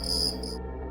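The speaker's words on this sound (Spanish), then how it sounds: "al escuchar el sonar de un pequeño grillo" A small cricket chirps in a short, bright trill that stops abruptly partway through, with a low murmur of background noise underneath and no voices.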